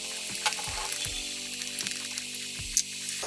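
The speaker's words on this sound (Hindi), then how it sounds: "अब हम इसमें दाल डालते हैं जो हमने ½ kg ली थी।" Lentils for Pakistani fried daal mash sizzle and spatter steadily in a hot frying pan, a close, continuous hiss broken by a few sharper pops.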